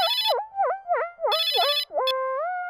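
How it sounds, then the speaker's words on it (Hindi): A phone rings loudly and close with a bright electronic ringtone, a melodic pattern of repeated warbling notes that ends on a sustained tone. "अरे फोन बज रहा है।"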